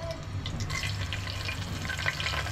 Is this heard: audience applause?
no